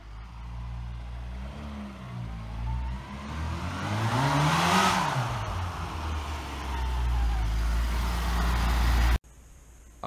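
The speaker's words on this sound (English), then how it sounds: "The mini started and run." A Mini's engine runs close by, its note climbing and falling through a rev in the middle, then holding a steady rumble before cutting off abruptly near the end.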